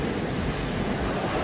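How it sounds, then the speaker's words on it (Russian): Big Pacific Ocean waves surge and churn in foam, a loud, continuous roar of surf mixed with wind buffeting the microphone, with no talking. "Смотрите, как бурлит океан, какие волны большие."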